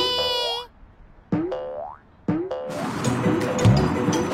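Cartoon boing sounds from a shape-shifting creature turned into a bouncing ball in an animated children's show, three springy rising tones at intervals, followed by busier, louder cartoon effects.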